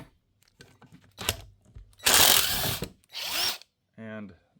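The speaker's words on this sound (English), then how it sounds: "we had to pull out the big guns with the torque wrench" An impact-style torque wrench drives loose four tight, corroded bolts on a cast pool pump body, giving several loud, buzzing mechanical bursts of varying length, close up with brief quieter gaps between them.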